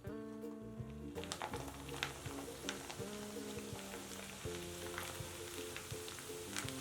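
Coriander leaves deep-fry in hot oil over a high flame, a dense, steady crackling sizzle that bursts up suddenly and continues with popping spatters, close by.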